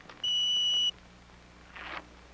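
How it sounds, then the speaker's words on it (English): A Polaroid countdown Land camera gives one steady electronic beep, clear and moderately loud, against a quiet background, then a short soft rustle follows. "And now we wait for the beep."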